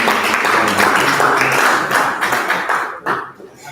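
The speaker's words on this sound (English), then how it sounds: "Can we give him a round of applause?" An audience at the Ghana Pavilion applauds a speaker being introduced, giving dense sustained clapping that fades out after about three seconds.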